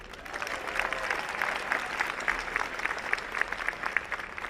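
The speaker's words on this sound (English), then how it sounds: "How about another cheer for our president?" Audience at a university honors convocation for the class of 2024 bursts into sustained applause and cheering, a dense, steady wash of clapping with scattered whoops throughout.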